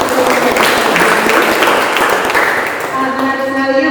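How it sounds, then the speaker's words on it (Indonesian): An audience gives steady, dense applause after a university lecture on the physics of the sago plant, loud and sustained throughout and slowly thinning toward the end, with a voice speaking over it. "Kita beri aplaus yang meriah untuk"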